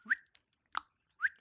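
A person whistles in imitation of a dolphin's name call, giving three short, bright rising chirps spaced about half a second apart, close and clear, with no talking.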